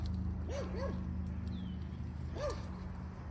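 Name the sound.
neighbor's dog barking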